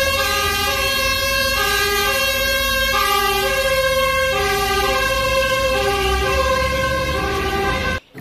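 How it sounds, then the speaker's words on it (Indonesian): A toy fire engine's siren sound effect wails loudly and continuously in a repeating alternating pattern, close and steady throughout, with no voices over it. "Wah, mobil pemadam kebakaran."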